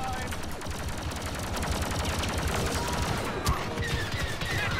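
Blaster fire in the Star Wars Battlefront 2 video game at Theed Palace, a continuous rattling stream of rapid shots at close range, steady and dense, with a voice talking over it.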